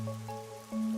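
Steady rain falling over a city street in the video game Master Detective Archives: Rain Code, a constant wash of drops under soft tonal game music.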